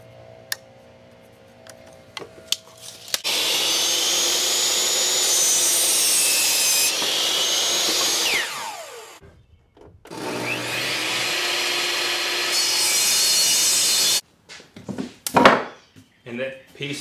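A saw rips a 2-inch strip of wood for an elevated raised garden bed table box, in two long, loud, steady cutting passes separated by a short pause, followed by a few sharp knocks and clatters.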